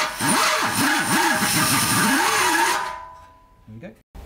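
Power drill spinning a three-point countersink to deburr freshly drilled holes in a Mini front subframe: a loud, close whine with wavering pitch for about three seconds, then slowing to stop.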